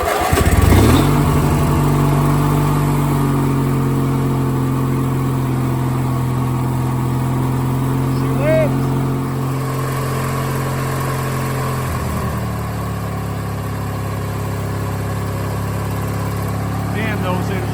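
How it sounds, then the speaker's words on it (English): A Craftsman II lawn tractor engine idles steadily and loudly nearby for the whole stretch, its pitch shifting slightly partway through, with no voices over it. "Damn, those engines are badass."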